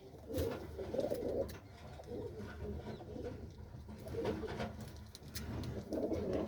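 White-eyed star pigeons cooing in repeated soft, throaty phrases, fairly close but quiet, with several overlapping birds and no talking.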